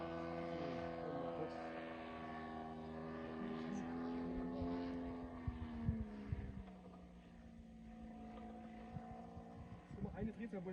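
A Sportsmann model airplane from Fliegerland, with a 3W157 gasoline engine, drones steadily in flight after purchase and repair. The pitch shifts as it passes, and voices talk faintly underneath.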